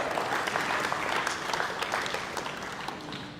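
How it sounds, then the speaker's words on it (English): Audience at a church youth conference session claps for a pastor's wife as she stands, a steady moderate round of applause filling the room for a few seconds and tapering slightly toward the end. "give her a clap"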